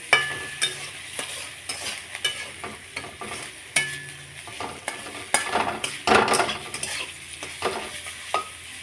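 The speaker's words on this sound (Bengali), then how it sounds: "আমার আলু ভাজা হয়ে এসছে" Thin-cut potatoes frying in hot oil in a pan, a close steady sizzle broken by repeated spatula scrapes and taps, with one louder spitting burst near the end, and no talking.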